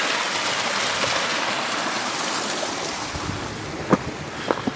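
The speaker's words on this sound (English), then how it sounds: "Little waterfall. Look at that." Continuous rushing water from a small waterfall splashes steadily, broadband and close, with a few sharper knocks near the end and no voices.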